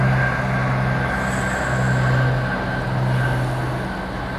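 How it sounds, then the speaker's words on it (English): A Scottish train passes nearby in a steady, loud rumble lasting a few seconds, with a faint high whine above it and no talk. "The Scottish train."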